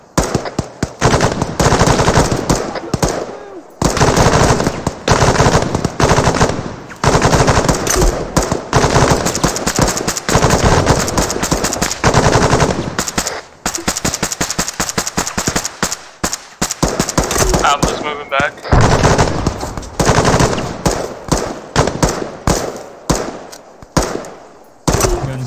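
Sustained bursts of suppressing machine gun fire in ArmA 3 military gameplay, loud and close, rattling nearly continuously with only brief pauses between bursts.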